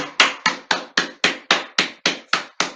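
Hands clap in a slow, perfectly even rhythm, about four sharp claps per second. The claps are close and crisp, and there is silence between them and no talking.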